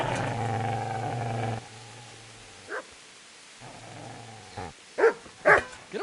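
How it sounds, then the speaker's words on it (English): A video game dog growls low and steady, then breaks into a few sharp barks toward the end, separated by quiet gaps, fairly close and alone without talk. "Get away, you mutt!"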